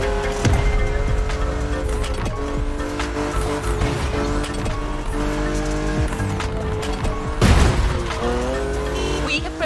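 A BMW Z4 M40i convertible driving in The Crew Motorfest racing game, a steady loud engine drone with tire squeal and skidding swells, plus a brief sharp surge near the end over continuous music-like tones.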